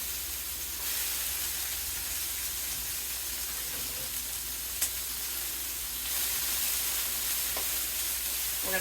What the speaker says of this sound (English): We're going to put our peppers in the pan.